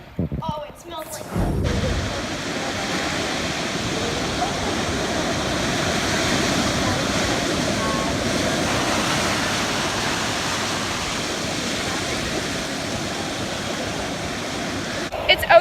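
Ocean waves washing on a sunny beach near a boardwalk, a continuous loud broadband roar of surf that stays steady throughout, with a brief clatter at the start.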